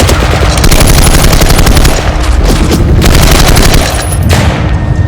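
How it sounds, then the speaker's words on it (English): Old First World War Vickers machine guns firing in a war film, heavy rapid automatic bursts thundering loudly and without pause, layered with dull booms in a dense battle din. "They also seem to be using old Vickers machine guns from the First World War."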